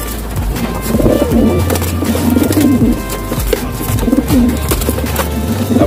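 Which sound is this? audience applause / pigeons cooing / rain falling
pigeons cooing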